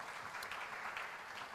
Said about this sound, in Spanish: Con otro fuerte aplauso recibamos a José La Luz, por favor.